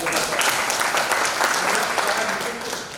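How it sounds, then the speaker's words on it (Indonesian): An audience claps at a university guest lecture, giving a dense, even burst of applause from many hands that stays loud and close and then eases slightly toward the end. "Kita berikan aplaus."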